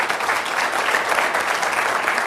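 Steady audience applause, a dense wash of clapping that holds at an even level from start to finish.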